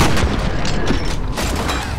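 A gunshot in F.E.A.R., heard as a loud, close booming blast smeared into heavy low rumble and echo that fills the moment, with no clear talk over it.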